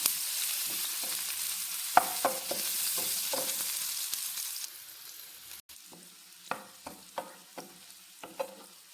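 Half an onion sizzles steadily in hot oil over low heat, with a spoon scraping and tapping the pan in scattered stirs, close and moderately loud, with no talking.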